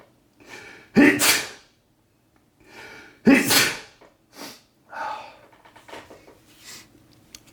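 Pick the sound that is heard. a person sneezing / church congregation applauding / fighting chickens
a person sneezing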